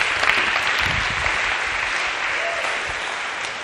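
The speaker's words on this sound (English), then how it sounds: "a big round of applause if we could" A lecture-hall audience at a Harvard computer science class gives a big round of applause: thick, continuous clapping that stays loud and even throughout and thins slightly toward the end.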